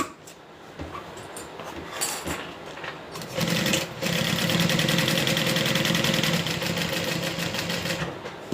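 After a few soft clicks and handling noises, a sewing machine starts stitching and runs in a steady, fast, close mechanical whirr for about five seconds before easing off.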